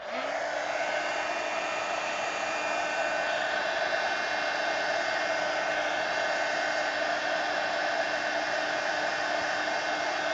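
A hair dryer blows continuously on a painted art journal page, a steady close whooshing roar with motor whine that holds unchanged throughout.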